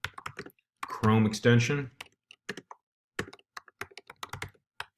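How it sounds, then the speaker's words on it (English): Computer keyboard typing in Chrome, a few quick clicks scattered around a man's speech, close and fairly quiet. "You just type in something like ad block"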